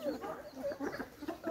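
Chickens clucking on a small farm in Moulvibazar, Sylhet, a run of short repeated clucks close by, fairly quiet with no talk.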